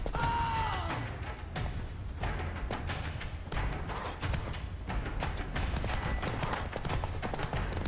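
Roach, the horse in the video game The Witcher 3: Wild Hunt, galloping in a fast, dense rhythm of hoofbeats under a steady wash of game ambience and movement noise, with no one talking.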